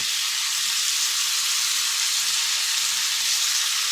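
Venison heart steaks sear on a hot grill with a constant, close, loud frying hiss that holds even and unbroken from start to finish.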